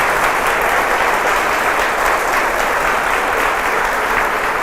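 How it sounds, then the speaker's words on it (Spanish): A congregation gives loud, sustained applause, a thick even roar of many hands clapping that holds steady throughout. "Démosle la gloria a Dios con un sonoro aplauso"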